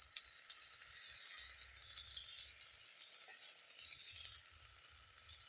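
Ginger-cumin paste with turmeric and salt frying in a pan, a soft continuous sizzle with occasional clinks of a spoon stirring against the metal, fairly faint and heard alone.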